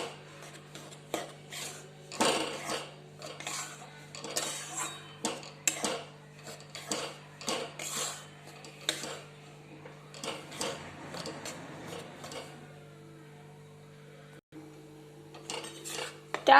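Besan being stirred with vegetable ghee in a metal pan for laddoos, a utensil scraping and clinking in a steady, irregular rhythm close by, with a low constant hum underneath and no talking.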